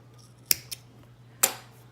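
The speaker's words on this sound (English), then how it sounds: "we're going to cut that nice and close" Scissors snip through crochet yarn close up, with two quick crisp cuts followed by a third sharp snip after a short pause, alone against a quiet background hum.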